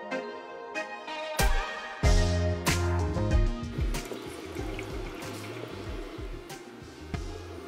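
Water splashes and sloshes as mutton liver is swished and rinsed by hand, with clattering knocks against a vessel and a steady wet churning throughout.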